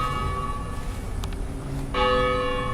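Church tower bell rings with sustained metallic tones and a fresh loud strike near the end, heard alone at moderate distance amid quiet outdoor ambience.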